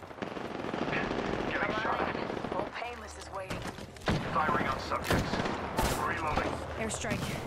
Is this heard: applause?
no